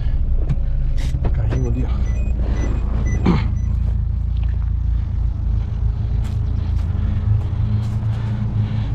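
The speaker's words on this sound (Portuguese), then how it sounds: "Vem, o carro tá aqui." A car engine idles close by as a low, steady rumble under a voice, with brief speech early on and the motor droning on alone afterward.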